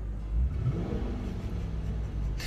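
A car engine revs while parked, a steady low rumble swelling and holding for a couple of seconds, close and fairly loud with no talk over it.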